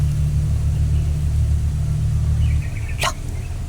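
A vehicle engine idles with a steady low rumble throughout, dropping slightly near the end, with a brief sharp higher-pitched sound cutting in at about three seconds.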